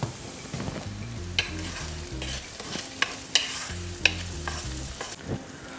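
Onions frying for rajma curry sizzle steadily in a pan while a spoon stirs them, giving scraping clinks and knocks at irregular intervals, close up with no talking.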